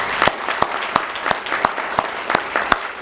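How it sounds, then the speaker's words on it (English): A banquet audience claps together, steady close applause with sharp rhythmic accented claps coming roughly every third of a second, and no talking over it. "So please, a round of applause for these folks."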